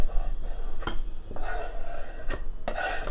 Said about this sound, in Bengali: এখন এই পেঁয়াজ মরিচ কুচিটাকেও বেগুন কুচির সাথে মিশিয়ে নেব।